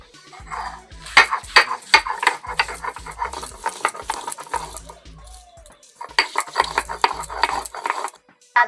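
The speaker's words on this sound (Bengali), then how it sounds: "এবার আদাটা বেটে নেব।" Ginger is ground into paste on a traditional grinding stone in a home kitchen: repeated scraping and knocking strokes of stone on stone come in rhythmic bursts with brief pauses, loud and close, and no one speaks.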